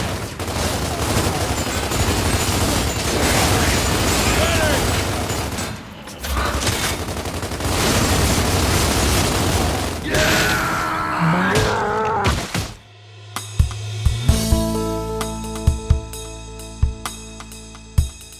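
Gears of War multiplayer combat: heavy gunfire and explosive bursts roar continuously, then give way to sharp, sparse thuds and impacts, loud and close, with game music and effects layered in.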